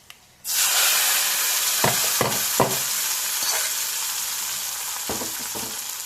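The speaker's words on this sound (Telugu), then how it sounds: "వేసేద్దాం తాలింపు" Tempering for tamarind dal hits a hot pan with a sudden loud sizzle that holds as a steady, close frying hiss, with a few soft stirring knocks.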